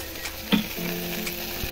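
A hot wok on the stove sizzles as leftover water cooks off before coconut oil goes in, a close, steady crackling hiss with a brief louder spit.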